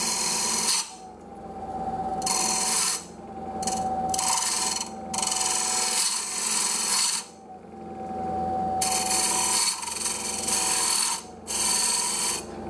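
A bowl gouge cuts wood on a running lathe in repeated bursts of loud, close, broadband rasping, separated by short pauses where only the lathe's steady motor whine remains.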